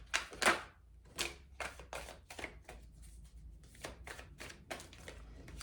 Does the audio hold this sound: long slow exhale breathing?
no